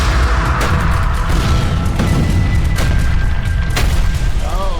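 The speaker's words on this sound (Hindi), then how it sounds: "क्या कमाल की आतिशबाजी है।" Explosive booms in an animated Skibidi Toilet scene, heavy repeated blasts filling a dense, loud mix with sharp bursts spaced through the sound and no clear voices.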